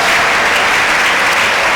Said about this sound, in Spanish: Alguien que aplauda la gloria de Dios.